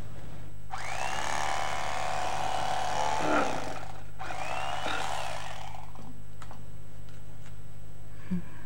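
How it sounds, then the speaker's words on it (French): An electric knife cuts a cooled homemade loaf into even slices, its motor buzzing in two sustained strokes separated by a short pause, then falling quiet. "Vous pouvez couper un pain suffisamment refroidi en tranches égales à l'aide d'un couteau électrique, comme celui-ci"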